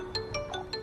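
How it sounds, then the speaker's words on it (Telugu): A mobile phone ringtone chimes four short, evenly spaced bright tones, faint and slightly distant, with a low background murmur underneath. "ఇది నీ మొబైల్ రింగు"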